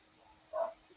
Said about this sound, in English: if you hear the dogs in the back barking,